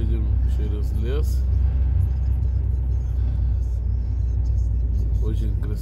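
A car rolling along a road through a forest near Rzeszów, its engine and tyres giving a continuous low rumble from inside the cabin, with people talking over it.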